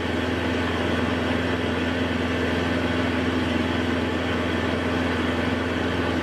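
Cessna 172 piston engine idling in Flight Simulator 2020, a steady even droning hum with no change in pitch, constant and fairly faint, with no voices.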